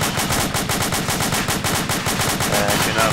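Rapid automatic gunfire in the Arma 2 video game, a dense continuous stream of loud, close shots with tracers flying, hammering steadily throughout.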